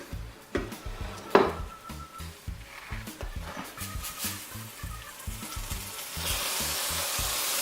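Cheese toast frying in a pan, turned over with a ladle instead of a spatula: steady sizzle with a run of scraping, knocking metal contacts, growing into a louder continuous hiss near the end.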